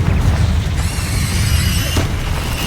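A Confringo fire spell bursts in the Hogwarts Legacy video game, a loud, continuous booming blast with a deep low-end rumble that holds steady for nearly three seconds.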